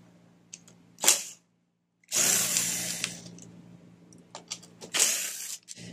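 Small 8mm screws being backed out of the carburetor on a Toro Recycler lawn mower that starts then dies, heard as two short bursts of a power driver whirring close by, with brief clicks between and no talk.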